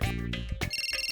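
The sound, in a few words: phone ringing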